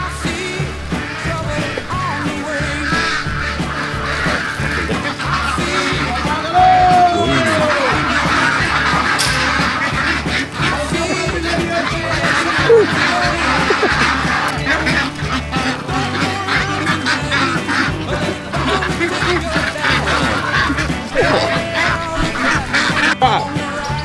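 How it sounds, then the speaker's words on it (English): A loud, dense chorus of many ducks quacking at once in Vietnam, continuous and close, with shouting voices mixed into the din. "So many ducks."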